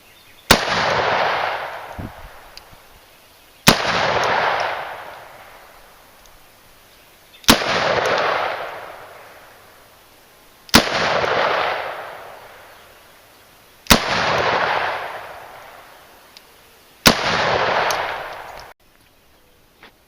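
A Taurus .44 Magnum revolver fires six loud, evenly spaced shots roughly every three and a half seconds outdoors, each sharp crack followed by a long rolling echo that fades before the next.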